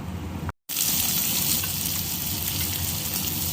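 Chopped onions hit hot oil in a pan with a sudden, steady crackling sizzle that keeps going loud and close, with no talking; dried red chillies are added alongside.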